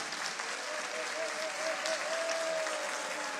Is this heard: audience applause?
yes